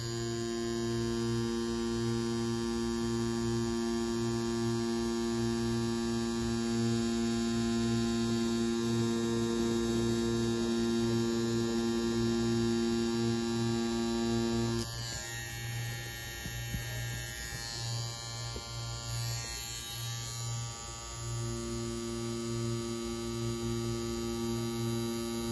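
A tattoo machine fitted with a 3-round liner needle and set to about 6.8 volts buzzes with a steady electric hum, close and unbroken, with a short change in tone midway.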